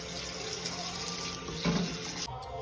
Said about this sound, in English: Just put a little bit of water.